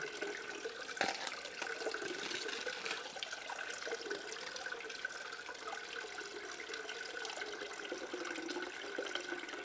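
A pump drives water through a tailings rerun setup, giving a constant gurgling, splashing flow with a faint mechanical hum underneath, steady throughout and close by.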